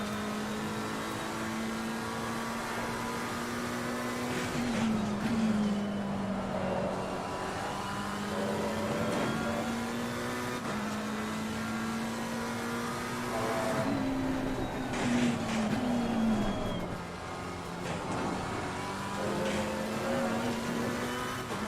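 McLaren 720S race car on the Imola circuit in Assetto Corsa Competizione, its engine droning steadily and rising in pitch through the gears, dropping on each upshift and downshift in a repeating pattern, close and loud throughout.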